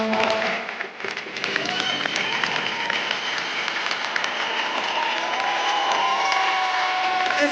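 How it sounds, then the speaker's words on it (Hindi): A television studio audience applauds an actor-director's entrance, with loud sustained clapping and cheering filling the whole stretch while voices call out beneath it. "आप सबकी जोरदार तालियों के बीच में स्वागत करना चाहूंगा एक्टर डायरेक्टर मिस्टर दीपक तिजोरी।"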